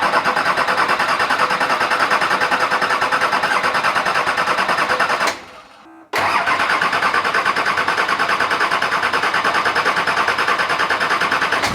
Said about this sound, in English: So now the motor's up and running, we know it works.